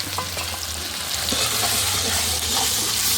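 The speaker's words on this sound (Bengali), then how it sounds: "দাও দাও করে আগুন জ্বলছে আর উপরে এখানে রান্না হচ্ছে এবার দিয়ে দিল পেঁয়াজ আর টমেটোর পেস্ট" Onion and tomato paste frying over an open-fire clay stove, with a steady dense sizzle and a low rumble of flames underneath, broken by a few scraping stirs of a spatula; close and continuous with no talking.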